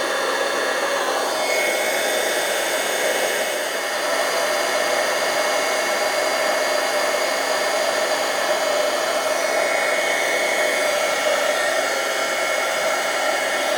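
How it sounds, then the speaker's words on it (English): A heat tool blows steadily and loudly while it melts embossing powder on a card, a continuous airy whirring hum with no pauses and no talking. "I'm going to heat up the embossing powder. You can see it as I'm heating it."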